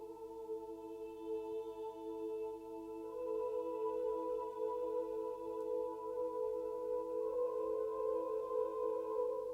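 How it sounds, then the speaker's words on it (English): Soft sustained choir tones double slow string chords, washed in reverb, swelling slightly midway and holding calm and quiet throughout. "doubling the string chords with a soft choir"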